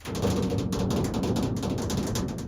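Dense, fast rain tapping patters steadily across a hollow van roof overhead, a continuous crackly drumming of many small drops.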